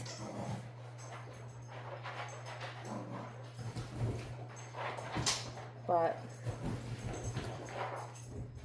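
A dog scampers around with quick pattering steps and small whimpers, while a voice speaks and a steady hum runs underneath.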